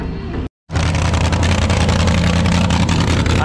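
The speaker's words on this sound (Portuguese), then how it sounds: "o motor V6 e um motor 4 cilindros em linha. Pelo jeito tá no metanol" A modified pulling tractor at a trekker trek, fitted with a V6 and an inline-four engine running on methanol, roars loudly and steadily at close range after a brief cut of silence.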